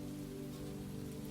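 Steady, soft rain patters on a surface in a quiet night setting, forming a continuous even hiss with low rumble beneath, no voices present.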